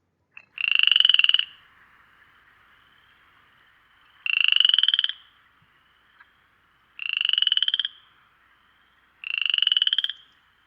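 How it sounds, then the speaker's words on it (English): Frog croaking in four distinct raspy bursts spaced a couple of seconds apart, clear and close against silence. "Let us hear the sound the frog makes."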